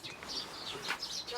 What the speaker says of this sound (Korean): 새소리 가득한 이곳